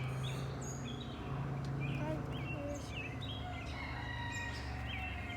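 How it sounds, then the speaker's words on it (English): A rooster crows repeatedly in the background outdoors, its calls fairly distant and recurring through the whole stretch over a steady low ambient hum, with no talk. "I do apologize for our rooster in the background"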